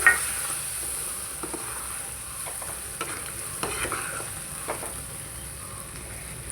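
Chicken pickle being mixed in a pan, giving a soft steady sizzle with repeated scraping and clinking stir strokes at a moderate level and no talking.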